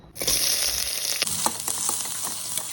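Loud, continuous sizzling of bay leaves frying in hot ghee in a pressure cooker, with a few soft stirring scrapes.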